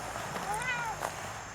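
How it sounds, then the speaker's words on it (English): A cat gives a single rising then falling meow, faint and somewhat distant, on a farm lot with tractors and old equipment, against steady background hiss. "Cat."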